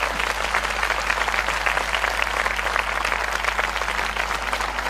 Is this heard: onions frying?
no